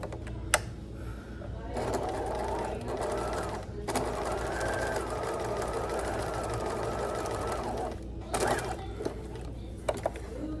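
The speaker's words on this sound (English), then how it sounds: "I'm just gonna go back, repin, and restitch" Sewing machine restitching a continuous lap on a garment, one long steady run of stitching lasting several seconds, close and even, with brief clicks and handling noise around it and a voice talking over parts.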